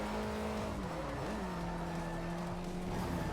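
Rally car in Forza Motorsport 4 racing through a final corner past a tyre barrier and across the finish line, its engine droning steadily and loudly throughout with tyre scrub underneath and no talk.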